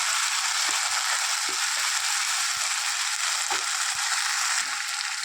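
Ground paste of ginger, garlic, cumin, onion and chilli frying in a pan, a steady close hiss of sizzling oil with scattered soft knocks and scrapes of stirring, no talking.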